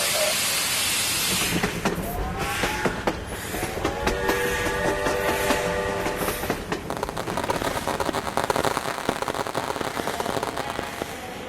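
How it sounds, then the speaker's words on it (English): A video game train pulls into a station with continuous rumbling, clattering and clacking of wheels and cars, plus screeching brake tones and sharp metallic clicks, loud throughout. "The train has arrived."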